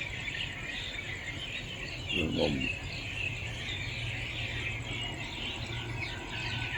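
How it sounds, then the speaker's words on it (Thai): A crow gives a single short caw in the cool early morning. It sounds somewhat distant over a constant chorus of insects, and a brief murmured word is spoken. "เสียงนกการ้อง"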